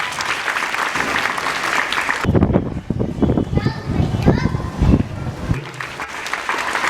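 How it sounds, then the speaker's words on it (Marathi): An audience applauds at a school award ceremony honouring students for district-level competition success, a dense burst of clapping mixed with children's voices and a speaker talking over it. "जोरात टाळ्या वाजवायच्या आहेत."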